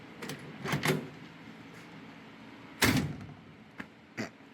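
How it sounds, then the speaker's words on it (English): A solid 1955 Chevrolet Tri-Five car door thunks shut with a heavy broadband clunk, preceded by a couple of softer latch and handle clicks, then a faint rattle afterward. "Listen how the door shuts."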